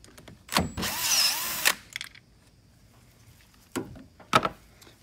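A 10 mm socket loosens the battery terminal nut on a Chevrolet Silverado, giving a short burst of metallic ratcheting and scraping, then a few brief clicks and knocks, close and with quiet gaps.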